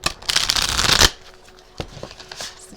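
Oracle cards from a Starseed deck get a close, loud riffle shuffle lasting about a second, a dense fluttering burst, followed by quieter taps and shuffling of the stacked cards.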